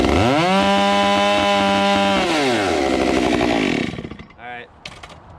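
A dull, rock-damaged chainsaw runs loud and steady through wood, its engine pitch dropping as it bogs, then winds down and fades out, leaving a couple of short faint noises at the end.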